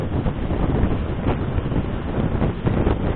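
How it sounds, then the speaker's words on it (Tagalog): Wind roars past a motorbike rider's open visor on a night road trip home, a loud continuous buffeting rush with low rumble, close to the microphone and unbroken throughout. "Simoy ang lamig ng simoy ng hangin"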